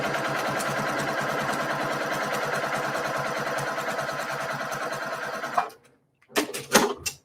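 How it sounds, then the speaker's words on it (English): A sewing machine stitches quilt fabric along a marked line for a kaleidoscope block, running loud and steady, then stopping with a few handling clatters afterward. "And now I'm sewing on the line."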